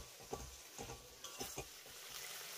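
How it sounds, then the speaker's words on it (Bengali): A masala paste of peanuts and poppy seeds, loosened with a splash of water, is stirred and fried in oil in a pan for a chana dal dish. Soft sizzling runs under a few faint, irregular scraping strokes, with no talk. "এবার আমি এই মশলাটাকেও খুব ভালো করে কষিয়ে নেব।"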